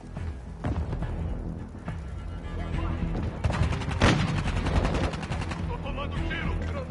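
Gunfire in Call of Duty MW2 multiplayer: rapid bursts and single shots with heavy booms over a noisy battlefield, while a voice calls out intermittently.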